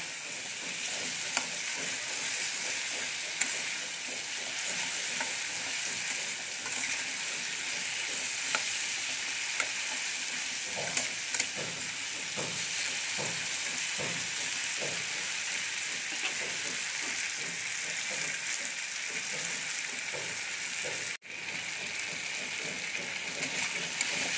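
Potato pieces frying in a pan over low-to-medium gas, a long, steady sizzle with repeated scraping and tapping of a spatula, nearby and moderately quiet.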